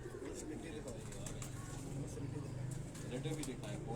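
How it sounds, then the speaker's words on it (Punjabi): Taunsi pigeons kept at a home loft coo softly in a low, repeated murmur, faint and somewhat distant beneath a steady background with occasional clicks. "ਘਰ ਦੇ ਤੌਂਸੀ ਕਬੂਤਰ ਨੇ ਜੀ"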